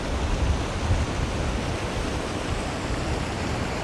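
Kings House waterfall on a very wet day, a steady broadband rush of falling water, close and constant with no voices.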